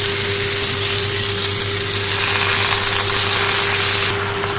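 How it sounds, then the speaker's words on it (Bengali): Greens going into a pot with hilsa fish head and softened stalks, producing a steady, loud sizzling and frying hiss throughout, with a low constant hum underneath and no talking. "এবার আমি দিয়ে দেবো শাকটা।"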